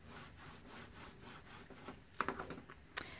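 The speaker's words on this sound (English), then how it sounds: "I'm going to flip this over and just give it a quick burnish." Quick burnishing strokes on a handmade flutter book cover, a soft rubbing friction sound with several short louder scrapes toward the end, close and fairly faint.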